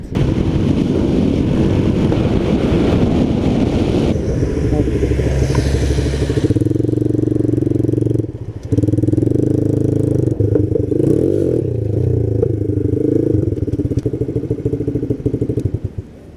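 A small motorbike ridden on a road in Cornwall, heading to a rally campsite, its engine drone steady and close with wind buffeting throughout, shifting tone midway as the bike slows and then pulls away again.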